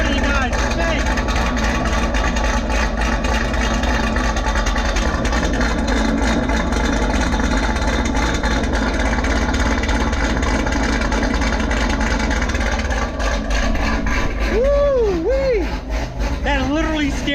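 A Chevrolet Camaro ZL1 idles through its aftermarket exhaust, a deep, continuous rumble that stays close and loud throughout, with voices talking over it near the end.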